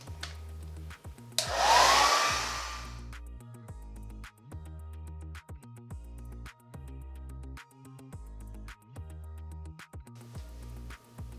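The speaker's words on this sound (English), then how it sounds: "what I use for the diffuser is I'll kind of focus on those areas that are a little bit longer to make sure the diffuser is drying it" A hair dryer fitted with a diffuser drying curly hair blows loudly in a strong burst for a couple of seconds, then settles to a lower, steady whir under a pulsing, rhythmic background.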